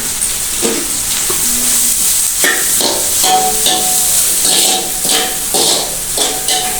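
Onions with salt frying and sizzling in a pan for Jaffna-style kottu roti: a loud, steady hiss with rhythmic scraping and knocking as the pan is worked, near and without talk.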